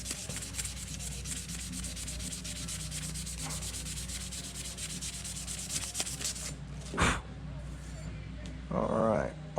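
Steady hand sanding of an aluminum engine part, a continuous close scratchy rubbing with brief louder scrapes near the end.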